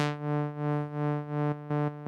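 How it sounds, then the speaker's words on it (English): A steady sustained guitar tone pulsing smoothly in volume with a sine-wave tremolo, rising and falling about every half second, then a few choppier swells. "You're hearing sine wave right now."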